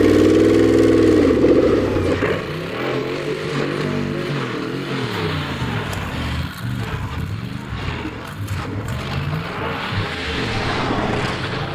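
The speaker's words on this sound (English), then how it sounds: "Damn, the engine runs nicely." A 5.7-litre Hemi V8 car engine runs close and loud, with a rough idle that rises and falls as it's revved throughout.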